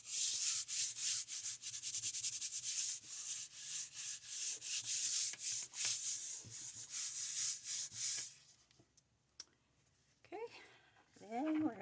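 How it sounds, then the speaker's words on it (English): Steady rubbing and sanding-like scraping as material is smoothed down by hand while making a leather-look notebook, close and continuous for several seconds, then stopping with brief faint movement sounds after. "Give this a good"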